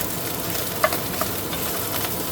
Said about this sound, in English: add your 2 bowls of cold, day-old rice right into the pan